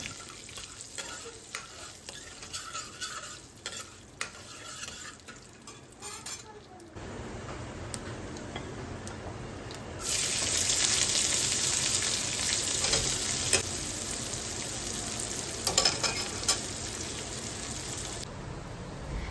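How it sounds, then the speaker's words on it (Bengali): Mustard seeds, asafoetida, fenugreek seeds, dried chilli and curry leaves sizzling in hot oil, quiet at first, then bursting into a loud bright crackle with some utensil clinks. "ফোড়নে দিলাম সর্ষে, হিং, তার সাথে কয়েকটা মেথি দানা, শুকনো লঙ্কা আর কারি পাতা"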